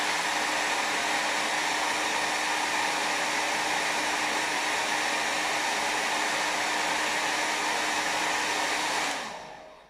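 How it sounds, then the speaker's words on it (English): A hairdryer runs loud and steady as a continuous broadband whoosh with a faint hum, alone for about nine seconds before it cuts off at the end. "hairdryer"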